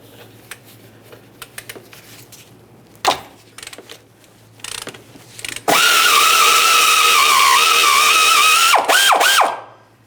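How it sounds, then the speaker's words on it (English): A ratchet on a 17mm socket works loose the lower sway bar link nut on a 1994-2001 Dodge Ram 1500. Scattered clicks and knocks lead into a loud, continuous whirring run of about three seconds, close up, with no talking. "Let's continue with our 17mm to remove the lower mounting nut."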